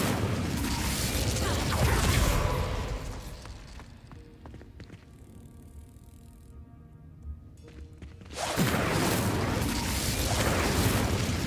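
Incendio fire spell cast in Hogwarts Legacy, a loud roaring whoosh of flame that fades into mechanical clicks and rumble, then a second fiery burst surges back in.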